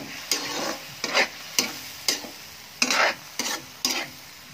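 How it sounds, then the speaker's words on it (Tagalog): Pancit ingredients are stirred in a hot pan, with about seven sharp scraping strokes in an uneven rhythm over a soft, steady sizzle close by. "Halo-halo hanggang ma-mix yung mga ingredients."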